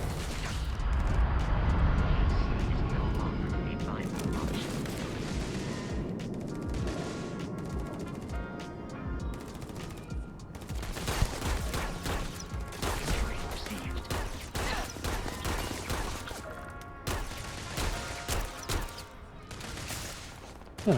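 Rapid bursts of sci-fi gunfire in the space game Starfield, dense volleys of shots and booms running nearly continuously, loud and close, with no speech over them.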